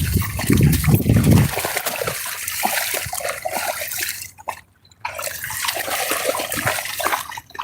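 A husky plunging and splashing in lake water, a loud sustained churn of sloshing and splattering close by, briefly pausing before resuming.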